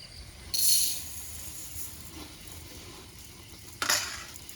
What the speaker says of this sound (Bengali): চালটা আমরা ধুয়ে নেবো।